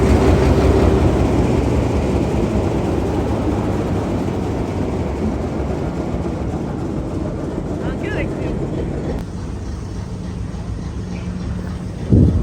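A train at Rawalpindi railway station gives a steady, loud rumble that holds for the whole stretch and eases slightly partway through. There is no clear talk over it, and a brief louder burst comes right at the end.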